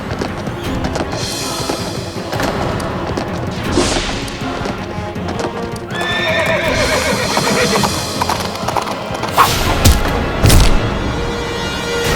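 A horse whinnies loudly and close by while its hooves clip-clop, mixed with occasional thuds and crashing knocks, forming a busy, dramatic scene with no one speaking.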